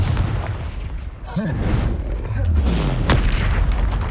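Confringo blasting spells explode in Hogwarts Legacy, with several loud booms and crackling bursts in quick succession over a low rumbling bed, while voices are also heard.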